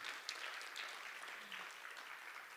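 Audience at a school principal community forum clapping together, a steady spread of hand claps from a crowd, moderately faint and continuous with no talk over it.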